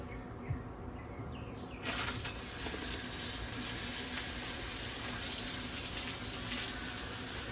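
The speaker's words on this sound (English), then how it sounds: "your on-off valve over here that will allow water to pass through or not pass through" Water gushes steadily through an on-off valve on a boat engine flushing hose, after a short quieter start, a continuous hissing rush that stays strong throughout.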